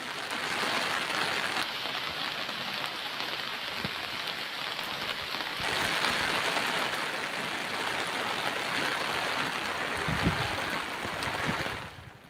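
Heavy rain from Cyclone Ditwah in Kodagu, a dense continuous hiss of downpour on surfaces, steady and close without letting up.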